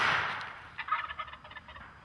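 A wild turkey strutter gobbles at a distance, a rapid rattling burst of notes that fades out, with nothing else around it.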